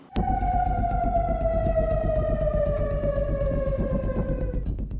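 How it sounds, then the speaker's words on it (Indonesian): A loud air raid warning siren over residential areas of Amman, Jordan wails steadily, its tone slowly sliding downward, with no voices. "Suara sirine terdengar di berbagai kawasan permukiman di kota Amman"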